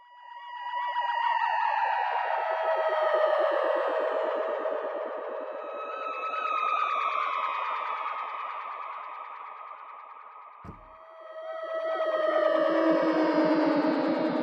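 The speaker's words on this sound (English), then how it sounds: "This is a nice pad sound." Swirling Rob Papen Predator-3 synthesizer pad with descending, echoing sweeps and pulsing tones, evolving slowly, briefly dipping before swelling again; no voices.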